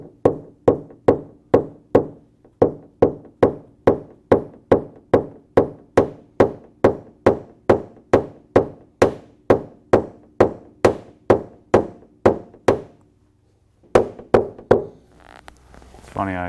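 A tool knocking down a high spot during paintless dent repair on a Civic Si car panel, a long run of sharp evenly spaced taps, close and loud, pausing briefly before a few final knocks.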